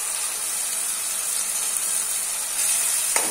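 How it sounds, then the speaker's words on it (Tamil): Ground tomato paste poured into a hot pan while cooking chicken do pyaza, a steady close sizzle and hiss that holds throughout, with no one talking. "இப்போ நெக்ஸ்ட் வந்து நம்ம டொமேட்டோ வந்து அரைச்சு வச்சிருக்கோம் இல்லையா, நம்ம அந்த பேஸ்ட் வந்து நம்ம ஊத்திக்கலாம்."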